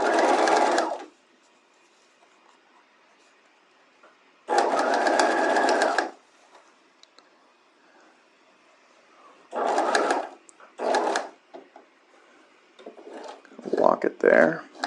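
A sewing machine stitches a bias facing along a bodice neckline in short, close whirring bursts with silent gaps between them, ending in a few quick stitches near the end.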